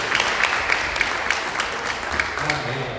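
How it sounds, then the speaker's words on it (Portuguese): A church congregation at a Baptist Sunday service applauds the children's colleague, a moderately loud, continuous patter of clapping with a voice briefly audible underneath toward the end. "Você pode aplaudir o seu colega das crianças."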